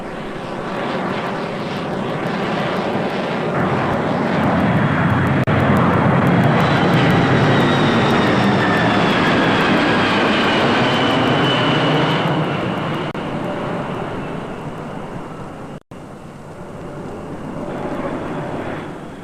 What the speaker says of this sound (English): The attack against engines that make too much noise